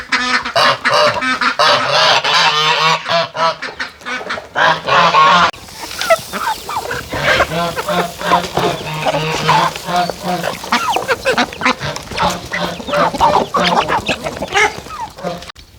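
A flock of ducks and geese being fed grain honk and quack loudly and continuously at close range, with dense overlapping calls and scattered rustling and pecking noises.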